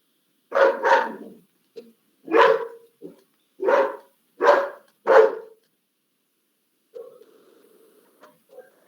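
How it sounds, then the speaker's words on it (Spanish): A small dog barks six times in sharp, loud single yaps spread over several seconds, then lets out a quieter drawn-out whine, with silence between the sounds. "disculpar los ladridos."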